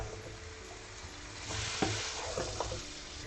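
Steady sizzling of a beaten egg in a hot pan, with scraping stirring strokes and a few sharper clicks of a utensil, close and continuous.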